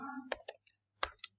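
Someone types code on a computer keyboard in short bursts of crisp, close key clicks, with a pause in the middle and no talking.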